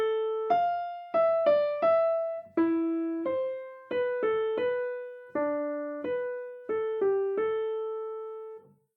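A short melody of plucked or keyed tones played in sequence, a phrase beginning on E and repeated starting on D, with clean separated notes in a steady rhythm, close and alone.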